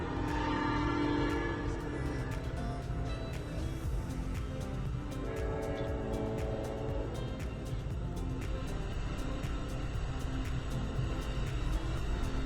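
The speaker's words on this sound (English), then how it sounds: "we see our train flying by" An Amtrak Auto Train rolls past at speed outside Folkston, a steady loud rumble of wheels and cars with a drawn-out horn blast early on, continuous and close for the whole pass.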